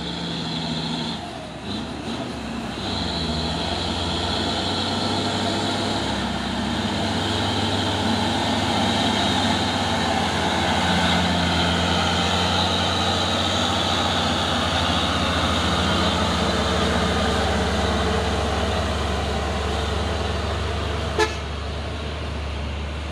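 A CPO tanker truck drives past on the road with a long, loud, sustained engine rumble and road roar, a brief horn-like toot mixed in, and a sharp click near the end; no talking.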